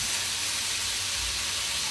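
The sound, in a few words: water added to hot pan while cooking pancit, hissing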